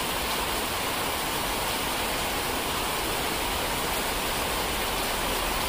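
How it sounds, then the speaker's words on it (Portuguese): Heavy winter rain pours steadily during a thunderstorm at a construction site in Serrinha da Prata, a dense, continuous hiss filling the clip with no voices. "Muita chuva, olha, deixa eu mostrar aqui a vocês, ó."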